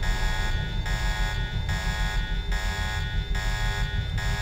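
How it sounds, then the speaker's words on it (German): Alarm in the game Deus Ex at Vandenberg, a steady loud electronic buzzing tone that pulses on and off about once a second, repeating continuously with no one talking. "Alarm aus."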